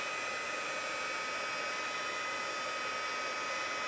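An embossing heat tool blows a steady, loud, even whoosh like a hair dryer while melting embossing powder, with no other sounds over it.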